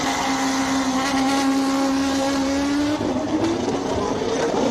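Lotus Ferrari race car launching at the Simola hill climb, a loud high engine wail climbing in pitch through the gears with a brief shift dip, no talking.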